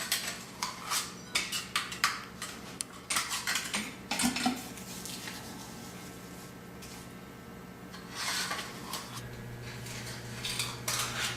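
Chinking material is scooped into a chinking gun, producing irregular metallic clinks, taps and scrapes, busy at first, then pausing before another cluster of clatter.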